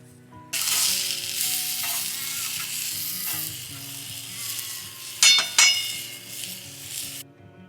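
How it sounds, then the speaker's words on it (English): Peri peri chicken char-grilling on an Oz Pig portable camp stove gives a loud, steady sizzle that starts abruptly, with a few metallic clanks and scrapes partway through. "we just want to sort of char grill that, get a nice little bit of blackening on the skin"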